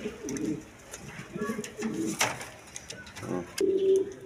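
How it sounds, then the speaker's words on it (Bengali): Large red Gola pigeons cooing close by in repeated soft, throaty bursts, with wing rustles and faint background noise between calls. "দেখেন একদম বিগ সাইজের কবুতর"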